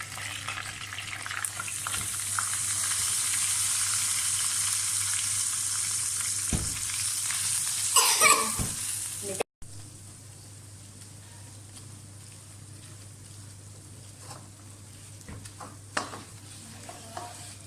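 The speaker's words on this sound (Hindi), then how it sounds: "बेसन को घी में भूनना शुरू करें।" Gram flour (besan) roasting in ghee in a pan, stirred steadily: a continuous loud sizzle with scraping strokes, a brief pause, then quieter sizzling continues, with no talk.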